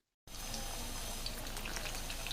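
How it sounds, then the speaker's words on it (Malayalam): Banana fritters sizzle in hot oil, a steady dense crackle and hiss that holds evenly loud and close after a brief silent start, with no talk. "ഇതും നമുക്ക് ഫ്രൈ ചെയ്തെടുക്കാം"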